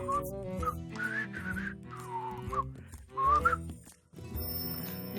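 Melodic human whistling in the video game Voice of Cards, a bright wavering tune over a sustained musical backing, fairly close and continuous with brief pauses.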